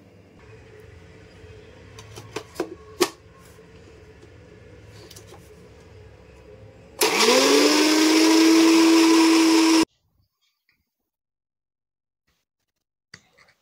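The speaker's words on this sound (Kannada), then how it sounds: "ಇವಾಗ ಇದನ್ನು ಸ್ವಲ್ಪ ಹಾಗೆ ಗ್ರೈಂಡ್ ಮಾಡ್ಕೊಳ್ಳೋಣ" A kitchen mixer grinder, used while preparing food for dinner, whirs loudly at steady high speed for about three seconds, then cuts off abruptly into silence, following a stretch of quieter clinking and handling.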